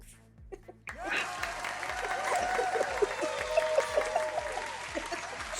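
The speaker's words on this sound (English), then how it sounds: "Applause." An online audience applauds at a grand finale show, a dense crackle of clapping that rises abruptly after a second and holds steady, with a low rhythmic music beat pulsing underneath.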